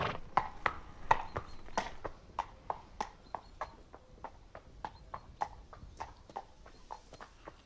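A horse walks with a steady, evenly spaced clip-clop of hooves, moderately close and clear, continuing throughout with no distinct whinny.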